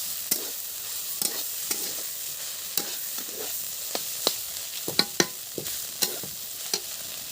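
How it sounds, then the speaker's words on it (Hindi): Cauliflower bhaji fries in a kadhai in a village kitchen while a spatula scrapes the pan now and then, giving sharp intermittent strokes over a soft, steady sizzle, close up and with no voices. "बीच बीच में हम वो भी चलाते रहेंगे"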